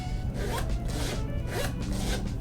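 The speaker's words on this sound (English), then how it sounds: "You zip in and out of the shoe." The zipper on the back of a Nike Air Fear of God 1 sneaker is pulled open and closed, making several smooth, raspy zipping strokes close to the mic with no one speaking.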